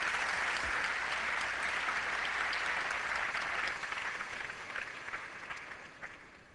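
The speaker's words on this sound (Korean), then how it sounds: "네, 박수 쳐주시기 바랍니다." Sustained applause from a seminar audience welcoming a pastor to the stage, a dense steady patter of many hands that thins and fades toward the end.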